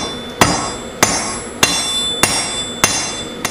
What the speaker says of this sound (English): Just gonna give this a little bit of taper so it slides into the coals a little easier.